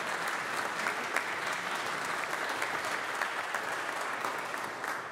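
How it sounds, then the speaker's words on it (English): A church congregation applauds steadily during a Youth Sunday service, a dense, even clatter of many hands that holds at the same level throughout and fades a little at the end, with no voices over it. "let's give them all a round of applause as well"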